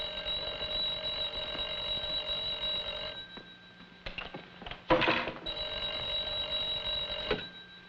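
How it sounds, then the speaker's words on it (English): An old-style telephone bell ringing insistently in a tense crime drama scene, a long loud ring that breaks off, then resumes after a brief clatter and thump. "Kovac, answer the phone."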